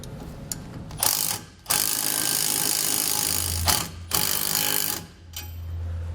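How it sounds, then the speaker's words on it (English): A ratchet wrench with a 19mm socket tightens bolts on TorkLift StableLoad lower overload springs, rapid close clicking in several long bursts separated by brief pauses. "We'll then tighten them down using a 19mm socket and wrench."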